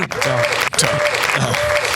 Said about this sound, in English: You keep giving me applause.